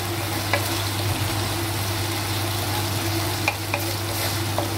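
Spicy potatoes with soy sauce being stirred in a kadai, a steady close sizzle of frying under a low hum, with a few faint clinks of the spoon.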